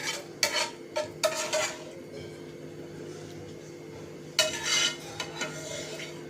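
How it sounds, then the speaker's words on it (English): Cooked pasta served from a pan onto a plate with metal utensils: a few sharp scrapes and clinks near the start, a quiet pause, then another brief run of scraping and tapping, close up with no talking. "So I'm quickly adding my pasta into my plate."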